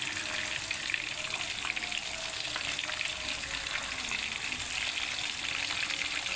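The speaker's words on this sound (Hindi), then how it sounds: "इसकी साइड्स को पलट लेंगे ताकि दोनों साइड से इक्वली ये अच्छी से भून हो जाएं" Fish pieces fry in a hot pan for a fish curry, giving a steady, dense sizzle that stays even and close throughout, with no voices over it.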